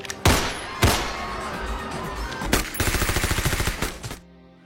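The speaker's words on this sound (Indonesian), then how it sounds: "tiba-tiba Rana langsung membrutal hingga terjadilah aksi tembak-tembakan." Gunfire in an action-film shootout: a few heavy single shots ring out, then a rapid automatic burst of about a dozen evenly spaced rounds, loud and close, ending abruptly in quiet.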